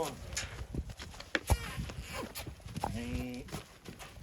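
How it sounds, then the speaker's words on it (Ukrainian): A heavy draft horse walks nearby, hooves clopping in an uneven rhythm, while people talk quietly over the steps. "Це їде кінь, це їде"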